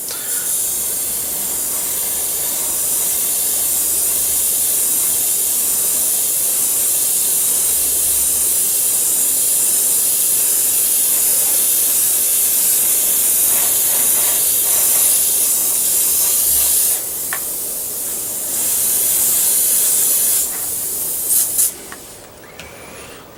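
Spray paint mists steadily over a figure with a loud, close, continuous hiss that lasts most of the clip before breaking into a few short bursts near the end.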